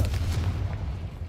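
A Confringo spell blast from Hogwarts Legacy lands as a deep, rumbling boom that decays over about a second, heard alone without speech.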